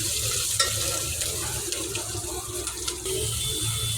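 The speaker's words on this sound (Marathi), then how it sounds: "त्यानंतर कांदा टाकला. कांदा आता थोडासा लालसर व्हायला आला आहे." Onion frying in oil in a pan with whole spices, curry leaves and ginger-garlic paste makes a steady, close sizzle with a few soft stirring clicks and no talk.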